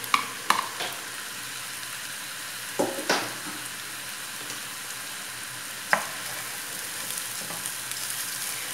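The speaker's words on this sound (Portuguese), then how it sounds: "Então, vou fritando aqui, ó, e ao mesmo tempo já vou dando essa refogadinha aqui nesse tempero do estrogonofe." Rice fries and stroganoff seasoning sautés in a pan, a constant soft sizzle punctuated by several sharp scrapes and clinks of stirring.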